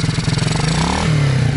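A pitbike engine revs with a rapid, pulsing motorcycle rattle, held fairly steady and close, its pitch shifting upward toward the end with no one talking over it.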